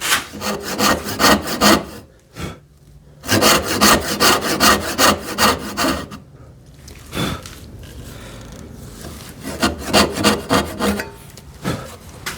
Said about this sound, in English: I still want to saw off as much as I can